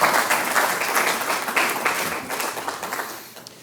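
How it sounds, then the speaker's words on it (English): Brief round of applause from attendees at a special board meeting of a community services district, a modest group clapping with individual claps audible, fading toward the end. "I actually think that deserves itself a little round of applause."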